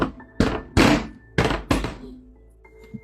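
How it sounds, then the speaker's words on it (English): Heavy fist blows pound on a door, four loud thuds in two pairs, each a sharp booming impact with a short decay, followed by quieter background noise and a faint knock near the end. "There was about a 25 minute video of him banging on the door, screaming in Korean"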